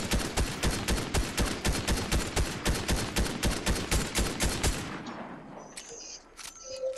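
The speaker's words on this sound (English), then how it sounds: "Rocket launch." Rapid burst of gunfire-like blasts in Fortnite, about twenty evenly spaced loud reports over five seconds, then cutting out to faint game tones.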